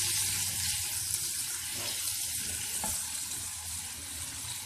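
Baingan bharta masala fries in a pan with a steady, dense sizzle and faint occasional stirring, close and continuous with no one speaking.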